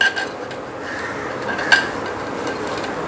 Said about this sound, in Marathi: माझ्याकडे जे ऑलरेडी स्टीलचे डबे आहेत ना त्याच्यामध्ये कसे बसतात ते बघायला लागेल